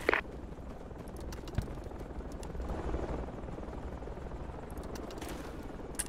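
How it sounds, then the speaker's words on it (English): A helicopter landing in the video game Project Reality: a steady, low rotor drone hangs in the distance, continuous throughout, with a few faint clicks over it. "Enemy helicopter landing north"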